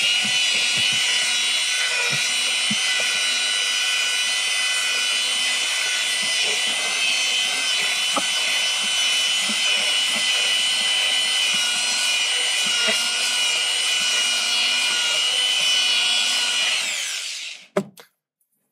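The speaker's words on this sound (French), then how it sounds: "on va te faire vite fait un petit coup de ponçage là sur ma petite marche d'escalier là qui est vernie" A belt sander runs loudly and continuously on a varnished wooden stair step for a long stretch, then winds down and stops near the end.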